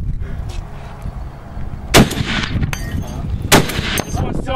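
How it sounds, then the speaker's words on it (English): Gunshots fired at a Las Vegas shooting range, with two sharp, loud cracks standing out clearly above low background rumble and faint chatter, the second louder than the first. "Just fire taking 3 shots whenever you're ready."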